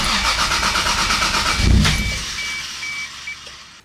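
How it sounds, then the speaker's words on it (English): A Toyota Supra with an ECUMaster engine management system cranks and catches, a loud close burst of engine noise that settles into a fading idle. "Engine start still pretty much the same because it is starting just fine."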